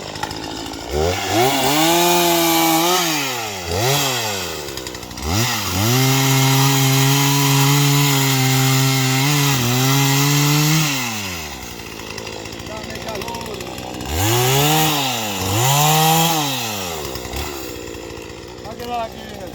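A chainsaw cuts down an oak tree outdoors, the engine revving up and holding loud through long cuts, dropping back between passes, then revving again in two shorter bursts.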